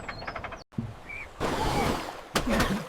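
Frog croaking in short bursts among outdoor ambience, a few rough calls near and moderately loud with brief gaps between them.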